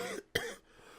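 A single sharp cough, close and fairly loud, followed by a fading breathy tail in an otherwise quiet room.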